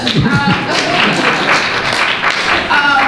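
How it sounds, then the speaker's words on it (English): A crowd applauds at a December public meeting in a historic house museum, a dense, steady patter of clapping that runs for a few seconds while a voice carries on over it. "Clap it up."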